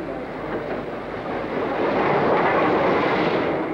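The North Britain train arrives at York station as a broad, steady rumble that swells gradually and stays loud and continuous, with no separate clanks standing out.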